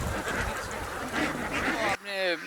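Ducks quack loudly in a steady, overlapping chorus, close by, with a brief clearer burst of quacking near the end.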